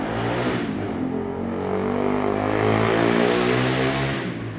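A car passes close along a roadside, its engine swelling loud as it approaches and goes by, then fading, with a steady harmonic drone throughout and no talk.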